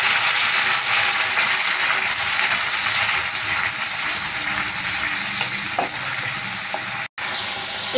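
Onion and garlic paste fries in oil left from frying paneer, giving a loud, unbroken hiss with faint stirring scrapes and a brief break near the end.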